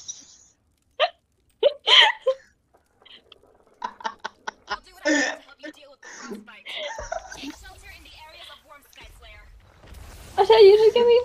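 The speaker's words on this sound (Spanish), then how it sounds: "Yo te he escuchado el hipo otras veces, pero esta vez ha sido como una ranita." A person's hiccups, small croaky frog-like gulps that come one after another between quiet gaps, alongside some chuckling and a few spoken words.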